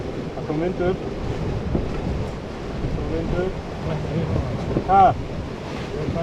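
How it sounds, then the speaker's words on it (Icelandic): Steady wind and surf noise rush across the microphone aboard a racing sailboat on open water during a sailing championship race, with voices speaking intermittently over the constant roar. "Það kom vind upp."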